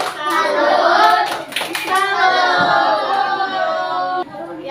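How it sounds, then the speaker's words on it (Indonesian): Classroom of children doing a rhythmic 'tepuk salut' clapping routine in an Indonesian school, with group chanting voices dominating over a few sharp, close hand claps at the start. "Kita beri tepuk salut untuk kelompok 4"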